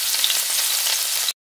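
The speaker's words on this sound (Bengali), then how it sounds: "রসুনটা লাল করে ভাজা হবে, হালকা লাল, বেশি লাল না" Garlic fries in hot white cooking oil alongside whole cumin, a loud, close, steady sizzle that cuts off abruptly.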